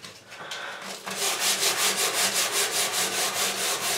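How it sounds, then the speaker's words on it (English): Hand sanding on a painted wooden medicine cabinet, knocking back the glossy finish: a close, steady rhythm of rasping back-and-forth strokes, about two per second, loud and unbroken after a short quieter start. "I'm giving this a good sand, getting rid of the gloss"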